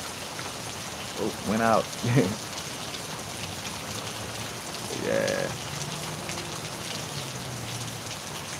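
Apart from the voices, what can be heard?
rain falling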